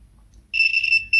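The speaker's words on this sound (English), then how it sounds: "connect here and here with the multimeter on compute it and see if we get a beep" A multimeter gives a continuity beep while testing a faulty micro switch from a Biasi M90 24S boiler, one clear high electronic tone held about half a second after a quiet start, then a second tone begins.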